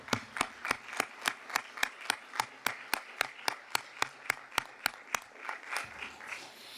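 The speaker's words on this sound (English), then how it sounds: "So they all deserve a round of applause for the amount of work they put into it" Students at a school board of education meeting receive a round of applause: a sparse, steady series of individual sharp claps, evenly spaced and fairly close, like one or a few people clapping in a meeting room.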